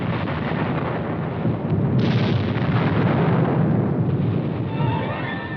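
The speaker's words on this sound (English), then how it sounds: "Under the cover of continued artillery air bursts, the team advances." Continuous artillery air bursts thunder across a battlefield in a dense, loud, rumbling barrage, with overlapping blasts merging into a sustained roar. The sound has a muffled, old-recording quality.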